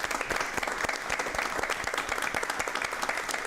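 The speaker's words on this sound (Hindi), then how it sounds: "ऐसे शख्स के लिए मैं आपसे अनुरोध करूंगा कि जोरदार तालियों से स्वागत करना चाहिए।" An audience applauds to welcome a guest speaker at a research and development career talk, dense rapid clapping from many hands, loud and steady throughout, with no talking over it.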